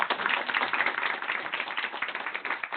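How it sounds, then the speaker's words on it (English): A crowd applauds at an evening sponsored tech talk event, with dense, steady clapping that stays fairly loud and even for the whole stretch, no voices over it. "So let's give a big round of applause."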